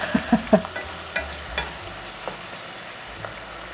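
Garlic cloves sizzle steadily in hot oil while a utensil stirs them, adding a few sharp scraping knocks early on and scattered softer clinks later, with no talking.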